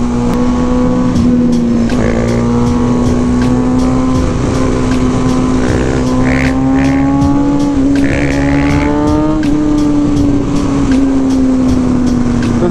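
A car being driven on throttle alone with no handbrake, its engine droning loudly and continuously with rising and falling revs and faint tire noise, close and dominant throughout.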